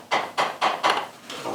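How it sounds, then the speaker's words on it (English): Four or five sharp taps knock a loose engine accessory bracket, missing a bolt, on a 2000 Honda Passport during a tune-up, struck in a steady rhythm close up with no talk. "I'm just giving it a little tap"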